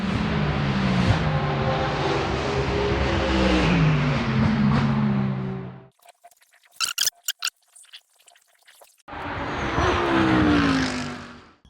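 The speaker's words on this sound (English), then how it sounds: "Really nice bit to come to when cars are going around the track at full speed." GT3 race cars at full speed at Brands Hatch, heard from trackside among trees: a loud engine roar with shifting pitch, a near-silent gap with faint clicks, then another car roaring past.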